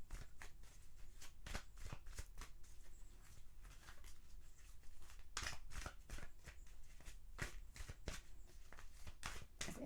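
A deck of tarot cards is shuffled by hand close up, producing quick irregular riffles and soft slapping flicks in a steady, quiet rhythm with no talking.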